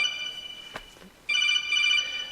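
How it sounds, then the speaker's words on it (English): A mobile phone rings indoors with a bright, steady electronic ringtone that starts after a brief soft chirp and continues loudly to the end. "Sorry about my phone going off."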